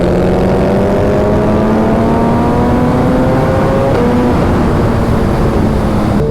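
A Suzuki Hayabusa sport bike engine pulls hard in one gear, its loud, close whine climbing steadily in pitch with a brief dip near the middle, over constant wind roar.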